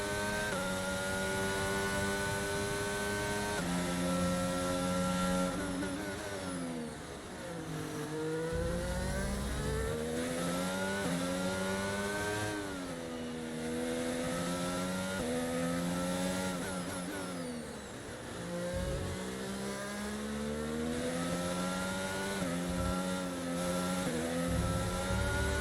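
A Formula 1 car in the F1 22 game runs a fast lap in Melbourne, its high-revving engine climbing through gears and dipping under braking into corners, a loud, continuous onboard whine with no talk.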